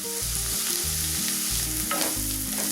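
Onions sauté in a pan for Kerala pidi chicken curry, giving a dense, steady sizzle and crackle with low rhythmic pulses, close and constant with no talking.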